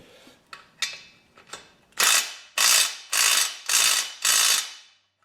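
Impact wrench tightening a bolt while a transmission jack is assembled: a few light clicks and short taps, then five loud, evenly spaced rattling bursts of about half a second each, close by.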